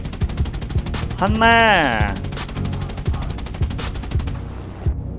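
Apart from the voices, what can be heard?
machine gun fire in War Thunder video game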